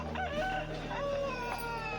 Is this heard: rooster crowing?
yes